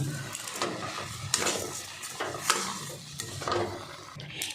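A spoon stirs date palm jaggery and sugar into milk in a pan over medium-low heat while making kheer, giving close, rhythmic scraping swishes with faint sizzle.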